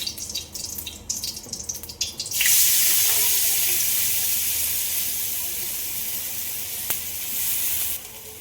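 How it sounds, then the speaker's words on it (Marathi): Tap water runs steadily in a home kitchen as cooking and tea pots are scrubbed clean, a loud continuous hiss after a brief stretch of clatter, with a short sharp clink partway through. "आता तर सगळं स्वयंपाकाचे आणि चहाचे त्याची भांडी घासून काढू"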